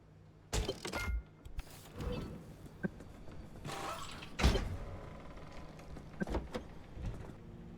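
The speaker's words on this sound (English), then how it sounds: "Crew door." The crew door of the car in Pacific Drive opens with a few quiet mechanical clunks, latch clicks and a creak, spaced out over several seconds with quiet stretches in between.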